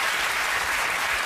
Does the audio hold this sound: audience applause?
yes